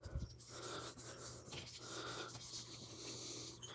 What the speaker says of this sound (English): this is 400, but it's really smooth sandpaper